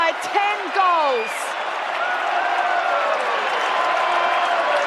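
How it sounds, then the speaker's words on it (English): A packed stadium crowd at an AFL match at Docklands roars and cheers in a sustained, dense wall of noise, with voices and whistles rising over it near the start and the roar holding steady afterward. "it's the biggest roar of the night here at Docklands. And it's still going. The crowd are on their feet in the stands"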